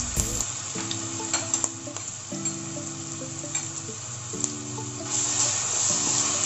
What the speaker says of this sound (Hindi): लहसुन का पेस्ट डाल रही हूँ।